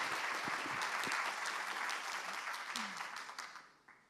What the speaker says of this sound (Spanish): Por favor, un aplauso para ellas.